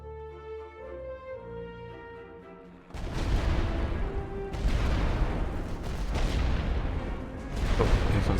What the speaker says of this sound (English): Oh, here comes a barrage.